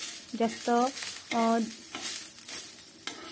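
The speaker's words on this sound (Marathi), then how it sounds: "त्यामध्ये अद्रकचे 2-4 तुकडे टाकून घ्यायचे आहे आणि लसण घालायचं आहे आणि तो सुद्धा कमी फ्लेमवर भाजून घ्यायचा आहे" Ginger pieces and garlic fry gently in oil over a low flame, a soft, close sizzle with occasional stirring, joined early on by a couple of short, tonal, voice-like sounds.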